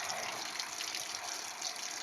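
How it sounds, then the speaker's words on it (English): Water gushes steadily from the overflow of a fresh water tank, a continuous, close, loud rushing with no break. "Water coming out of the air overflow"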